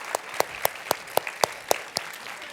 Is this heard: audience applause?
yes